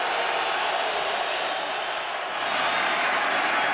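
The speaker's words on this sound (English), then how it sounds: "Crowd noise begins to build for the D halfway through the 3rd quarter" Broad, steady roar of a stadium crowd at an NFL game between the Giants and Eagles, holding loud and even throughout with a slight swell near the end and no clear talk.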